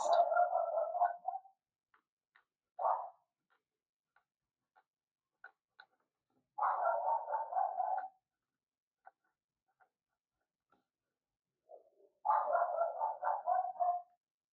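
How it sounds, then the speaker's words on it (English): A dog barks excitedly in the background, a few short volleys of rapid yaps roughly every five seconds, faint and distant, with scattered small ticks and quiet gaps between. "a dog goes absolutely bonkers in the background"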